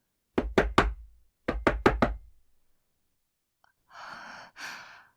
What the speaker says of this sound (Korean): 30초가 지나자 또다시 노크 소리가 들렸다.